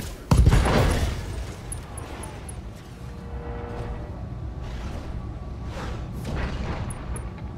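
Mech weapons fire in the BattleTech video game during an ammunition convoy escort mission in Detroit: a loud opening blast followed by a sustained rumbling barrage with scattered crackling impacts.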